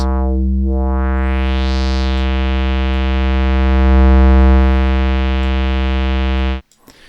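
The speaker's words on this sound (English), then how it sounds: "as you can hear, it works fine and we have resonance." A loud, sustained synth tone through a four-pole filter with high resonance sweeping upward, a bright whistling peak gliding through the harmonics before cutting off abruptly.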